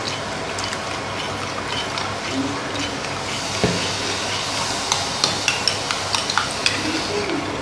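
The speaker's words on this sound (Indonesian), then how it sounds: "Lalu saya akan cairkan dengan sisa air kedelai seperti ini, dan kita aduk" Spoon stirring a tofu mixture dissolved in leftover soy milk in a bowl, a continuous wet swirl with rhythmic light clinks against the container growing more frequent toward the end.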